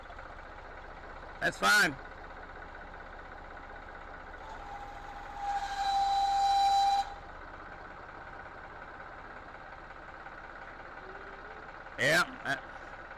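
A 75 horsepower tractor engine idles steadily in the background while people speak briefly nearby, its low hum continuous throughout with a short higher whine midway.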